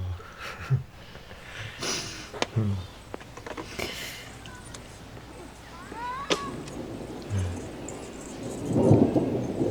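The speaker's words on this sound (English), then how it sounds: "Oh, thunder." Thunder rumbling during a storm, low broad rolls swelling and fading with a heavier crack near the end, faint rain texture beneath.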